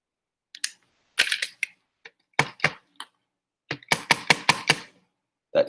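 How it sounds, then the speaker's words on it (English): Sharp clicks as a lab pipette tip is ejected and a new one fitted, several separate snaps followed by a quick run of five or six close, loud clicks, with near silence between them. "That clicking sound you hear is me getting a new tip."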